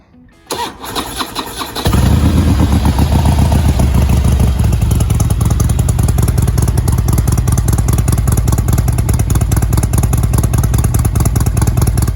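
A 2006 Harley-Davidson Electra Glide with a 95 big bore engine cranks briefly and then fires up, settling into a loud, close, steady rumbling idle with a rhythmic lopey throb.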